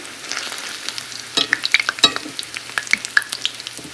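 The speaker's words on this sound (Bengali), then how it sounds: "দাঁড়ান সব কিছু এগুলো ভাজা করে নিই" Puffed, papad-like snacks for a famous Mayapur recipe crackle in hot oil, a close, loud run of sharp, irregular pops and spits over a steady hiss, growing busier partway through.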